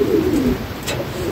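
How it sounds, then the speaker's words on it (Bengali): A mukhi pigeon gives a single low, rolling coo close by. The sound is brief, with no one talking over it. "এই যে মুখী কবুতরটা দেখতে পাচ্ছেন"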